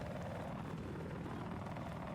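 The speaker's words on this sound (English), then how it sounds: "He's back up in the attack chopper." An attack helicopter flies in a large multiplayer video game, its rotor thumping steadily as a continuous low drone, with a brief sharp bump at the very end.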